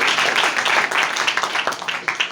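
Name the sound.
congregation applause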